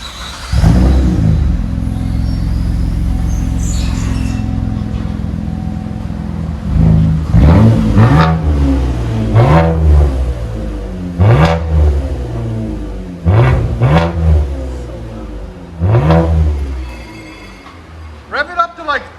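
A 2015 Chevy Impala V6 with straight-pipe dual exhaust, mufflers and resonator deleted, revs repeatedly in short bursts, each rising and falling over a steady idle, with voices talking between the revs.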